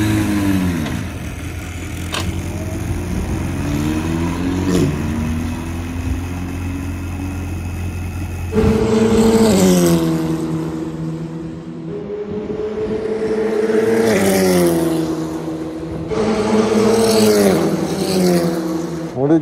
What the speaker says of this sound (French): On met juste le contact en fait et on mettra le moteur juste après.